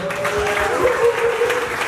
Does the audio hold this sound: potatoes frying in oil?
no